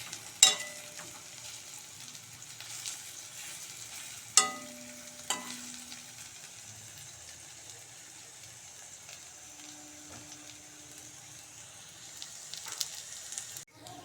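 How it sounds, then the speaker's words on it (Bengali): Drumstick flower fritters fry gently in oil over low heat, a quiet continuous sizzle punctuated by a few sharp utensil clinks early on. "লাল লাল করে আমি ভাজবো, হালকা আছে, বেশি জোরে আঁচ দেবো না"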